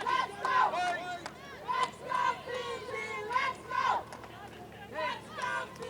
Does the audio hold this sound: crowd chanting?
yes